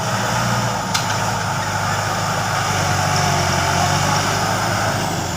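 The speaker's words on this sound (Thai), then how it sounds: "มาดูรถไถคันใหญ่ๆกันบ้างครับ" A large bulldozer working clay soil and rock for a temple donation drive, its heavy diesel engine droning loud and steady nearby with a brief metallic clink near the start.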